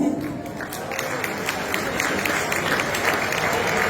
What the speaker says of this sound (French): Encore un petit peu d'applaudissements pour ce monsieur qui a été vraiment dans l'émotion aussi.